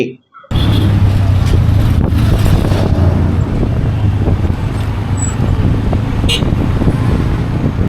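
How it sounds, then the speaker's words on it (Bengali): Riding in a three-wheeled tuk-tuk on a road outside Cairo, Egypt: after a brief quiet moment, a loud, steady engine and road roar sets in, mixed with wind buffeting on the microphone, close and continuous. "এবার মাইক্রোবাস থেকে নেমে তিন চাকা বিশিষ্ট টুকটুকে বাকিটা পথ চলছি"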